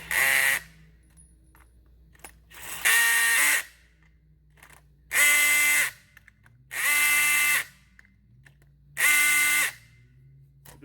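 A power tool runs in five separate, even bursts of about a second each with pauses between, near and loud, while bolts are tightened on a Preformed Line Products Cushion Grip Suspension (CGS) cable assembly.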